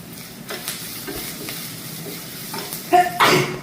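Fried rice with fresh curry leaves is stirred in a pan, a soft sizzle running under scraping and clinking of the spatula, with a couple of louder scrapes near the end.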